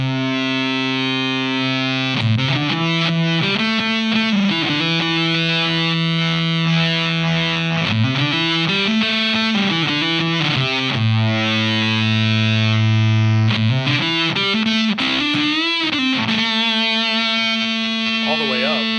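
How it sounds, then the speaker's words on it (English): Electric guitar played through a Seeker Lineage Supa Fuzz pedal with the filter knob turned up, giving thick sustained fuzzy distortion with a brighter, treble-heavy edge as notes and chords ring and slide, loud and alone. "So the filter knob, as we turn it up, you're going to hear more of the treble side of things come out and less of that bassy distortion."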